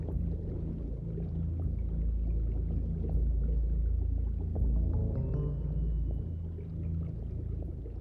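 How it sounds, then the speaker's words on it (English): A boat engine drones steadily, a low continuous rumble heard from underwater at a reef shark feed, muffled with faint bubbling and a brief higher whine midway. "The noise of the engine acts like a call to dinner"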